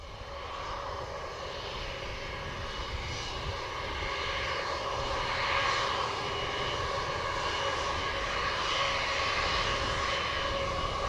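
A JetBlue airliner's engines rumble on the runway at Montego Bay, Jamaica, with a steady loud drone and whine that swells slightly midway and holds without voices.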